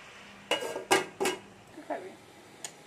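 Metal pot lid clanks and knocks against the rim several times as a pot of spinach and potatoes is covered while cooking, followed by softer clinks of cookware, close up with no talk.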